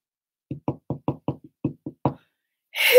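A quick series of about nine close wooden knocks on a castle door on a stormy night, in a slightly uneven rhythm, followed by a burst of louder noise at the end.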